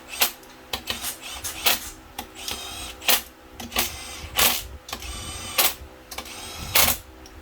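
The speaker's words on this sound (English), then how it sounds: "so as soon as it hits, it stops. So I'm not actually torquing this down. I'm just making it easier on me putting them in." A power tool on a soft clutch setting drives bolts into a Yamaha 1100 engine, giving repeated short mechanical bursts roughly every half second to second, close and loud, each stopping abruptly as the bolt seats.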